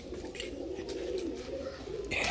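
Soft, low pigeon cooing, a continuous throaty murmur that carries through the clip, with a brief scuffle of rustling near the end.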